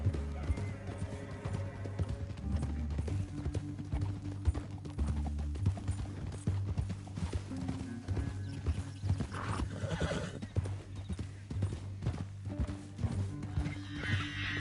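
Horse hooves galloping steadily in Red Dead Redemption 2, a continuous rhythmic clip-clop close up with snorting and whinnying, a game soundtrack and faint speech in the background.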